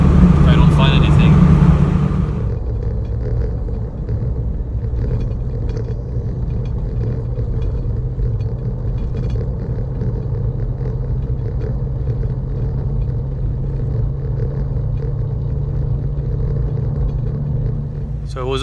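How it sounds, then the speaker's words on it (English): A car or overlanding vehicle drives along a road with a steady low rumble of engine and tyre noise throughout, close and continuous. "I'm just gonna keep driving south until I find something"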